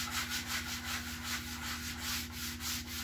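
Hand sanding of a Guitar Hero guitar faceplate: a steady run of rhythmic rasping strokes, close and fairly quiet, with a constant low hum beneath and no talking.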